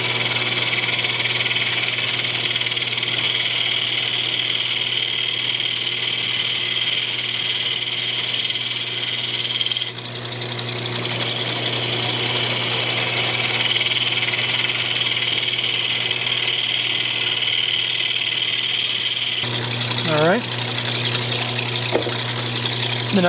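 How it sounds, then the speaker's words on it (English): A bowl gouge cleaning out wood on a spinning lathe while turning a lamp, a steady loud whirring drone of the machine throughout with a brief shift midway and some swooping cutting tones near the end. "Use bowl gouge to kind of clean it out."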